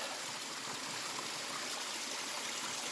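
A rain-fed stream flows beside a hiking trail, a steady broadband rush of running water heard close and continuous throughout, with no talk.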